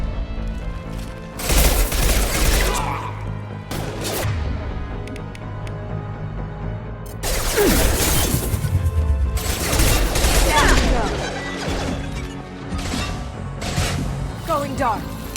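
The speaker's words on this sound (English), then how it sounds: "Firing an impact shot." Impact-shot gunfire in the video game Mass Effect 2 rings out in loud, repeated bursts of sharp blasts and booms, with quieter gaps between the volleys.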